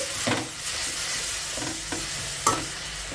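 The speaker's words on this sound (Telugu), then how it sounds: "ఇంకా మీడియం ఫ్లేమ్లోనే ఈ కొత్తిమీరని ఇలా కలుపుకుంటూ ఒక 2 నిమిషాలు ఫ్రై చేసుకుంటే సరిపోతుంది" Coriander is stir-fried in a pan over a medium flame: a quiet, steady sizzle broken by several spatula scrapes and stirring strokes at an uneven pace.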